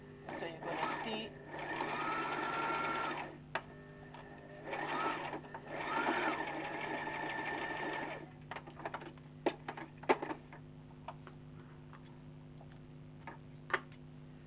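A Brother LS14 sewing machine stitches a zigzag: rapid mechanical whirring in short runs of a second or two, close and steady, followed by scattered clicks and ticks as it stops, with a person talking over it.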